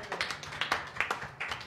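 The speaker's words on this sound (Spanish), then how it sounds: "Muy bien, un aplauso a nuestro invitado" A small studio audience claps for a guest on a talk show at a pizza restaurant, a brief scattered round of hand claps, close and moderately loud, in uneven bursts with no voices.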